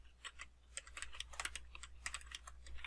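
Steady, fast typing on a computer keyboard fills a short stretch with quiet, dense clicking over a low background hum. No one speaks.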